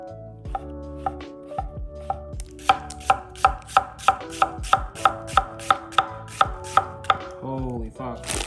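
A Miyabi Birchwood chef's knife slices shiitake mushrooms on a cutting board, giving a steady run of crisp, evenly paced close-up chops that speed up in the middle, with no speech.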